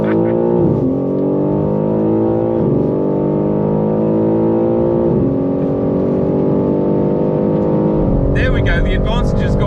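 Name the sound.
BMW M3 G80 launching and accelerating in a drag race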